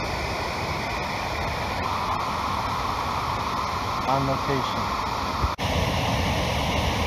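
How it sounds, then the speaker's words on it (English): A man-made waterfall on the Blackberry River at Beckley Furnace State Park in East Canaan, Connecticut roars as a steady, loud broadband rush close by, while someone talks briefly over it. "This waterfall, Blackberry River here, is just loud."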